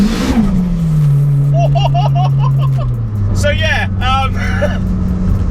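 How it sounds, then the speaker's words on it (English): A turbocharged Honda Civic EP3 Type R making about 440 bhp, with a Buddy Club exhaust and screamer pipe, accelerates under boost, its engine note droning steadily from inside the car while someone talks over it. "So my first initial boost in this car."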